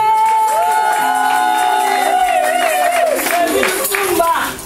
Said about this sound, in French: Dès qu'il passe, on acclame.